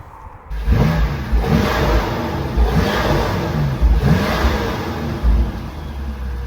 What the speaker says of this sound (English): Let's run a clip from before we put the new intakes in.